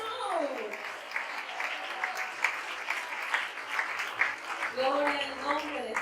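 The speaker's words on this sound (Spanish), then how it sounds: "Brinden un aplauso al Señor" A congregation claps during an evangelical church service, a sustained wash of applause with voices calling out over and around it.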